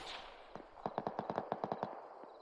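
A rapid burst of about ten gunshots from a heavy machine gun in the ArmA 3 military game during a night mission, evenly spaced and faint, heard from a distance with no talking.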